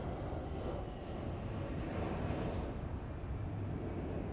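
A Boeing 777 airliner in a game, heard as a steady broadband roar of jet engines and rushing air that holds even and continuous throughout, with no voices over it.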